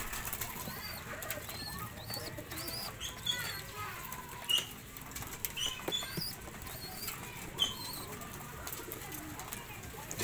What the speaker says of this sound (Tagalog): Gandang mga ibon guys.